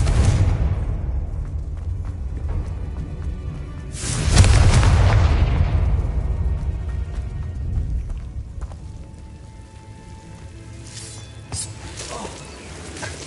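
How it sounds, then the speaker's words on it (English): A Confringo spell blast in Hogwarts Legacy bursts with a loud, rumbling boom that swells and slowly fades, surrounded by softer game effects and faint clicks. "Confringo."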